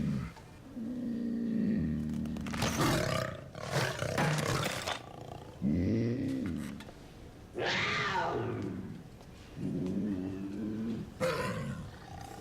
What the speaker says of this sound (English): It's a puma.